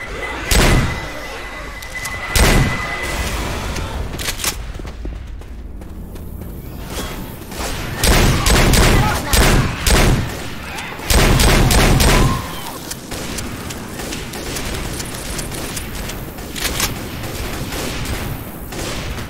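Bursts of gunfire and a thrown pipe bomb blasting in Left 4 Dead 2 during The Parish, with repeated loud broadband booms and volleys spread across a chaotic stretch of game action.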